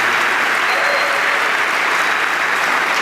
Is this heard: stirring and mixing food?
no